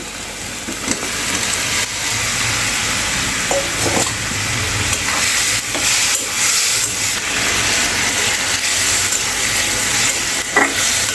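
Fried potatoes and pointed gourd stir-fried with rice give a loud, constant hissing sizzle close by, punctuated by scraping and light knocks as the mixture is stirred and turned in the pan.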